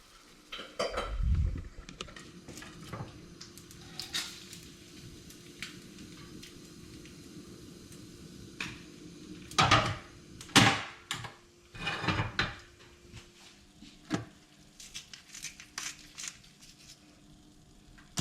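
A dinner of salmon skewers on roast vegetable couscous is dished up with scattered clinks and scrapes of pots, utensils and cutlery, close and intermittent, several sharp clatters clustered midway, with no talking.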